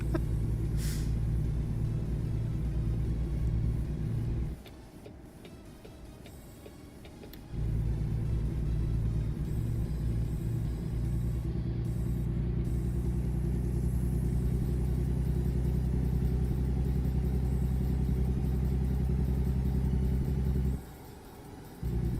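A heavy truck in American Truck Simulator rumbles steadily with a low engine drone and road noise, dipping briefly twice as it eases off and slows, with faint clanks over the continuous hum.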